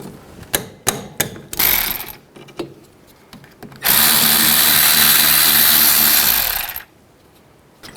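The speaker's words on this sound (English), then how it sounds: "take these two caliper bolts out, use a 12mm socket" Caliper bolts coming out of a 2007-11 Honda CR-V rear brake with a 12mm socket: several sharp ratchet clicks, then a loud continuous power-tool whir lasting about three seconds before stopping.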